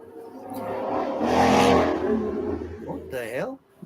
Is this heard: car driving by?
yes